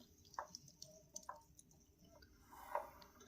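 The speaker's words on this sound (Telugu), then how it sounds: "ఇప్పుడు దీంట్లో కొంచెం వాటర్ వేసుకుందాం లైట్గా" Water goes into palak pakoda batter made with spinach, gram flour and turmeric in a home kitchen, heard as a few faint, scattered drips and soft splashes in a quiet room.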